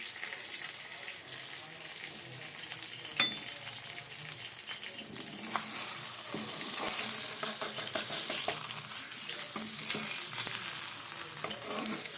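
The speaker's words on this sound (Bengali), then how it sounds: "বেগুনগুলোকে ভেজে নেই" Eggplant pieces fry in a hot pan with a steady, close sizzle that swells louder halfway through, mixed with light stirring and scraping, and no talking.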